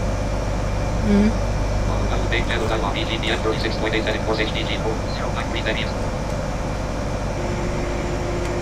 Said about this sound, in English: This Cessna's doing well.